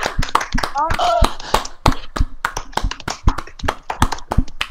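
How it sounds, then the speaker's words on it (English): A small group claps in a quick, uneven burst at the close of a casual hangout, with voices cheering and talking over the claps throughout. "let's just end every video with a clapping."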